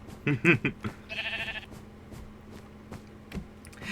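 Sheep in Minecraft bleating after being sheared by hand, a few short close bleats followed by a brief mechanical burst over quiet game ambience.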